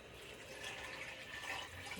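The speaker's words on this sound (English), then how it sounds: "Then I'm going to add the 1 1/4 cup of water." Water poured into a cooking pot of spiced garlic, ginger and nutmeg mixture, a steady close splashing fill for the full two seconds with no talking.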